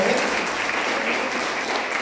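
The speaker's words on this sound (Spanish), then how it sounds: "Le damos un aplauso al Señor." A church congregation applauds together in steady, dense clapping that fills the space at an even level for the whole stretch, with a few voices faintly mixed in.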